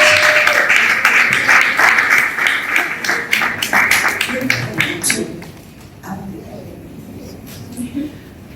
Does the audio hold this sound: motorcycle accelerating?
no